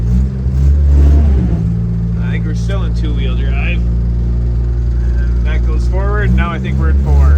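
A 1966 International Scout engine rumbles loudly and steadily while driving in two-wheel drive, a deep continuous drone that swells slightly, with people talking over it.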